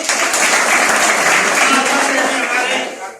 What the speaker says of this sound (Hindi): आप सबके लिए जोरदार ताली।